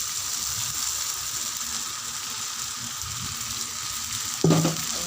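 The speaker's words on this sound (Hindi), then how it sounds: "अब डाल देते हैं इमा भात ला" Cooked rice tipped into softened tomatoes in a hot pan and stirred, a steady sizzle with scraping stirs and a sharp clatter near the end, close up and without voices.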